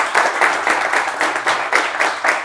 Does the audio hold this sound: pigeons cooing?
no